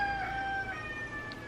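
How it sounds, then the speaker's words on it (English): A rooster crows once, its wavering call drawn out and fairly faint, as if from some distance outdoors. "My rooster won't stop crowing"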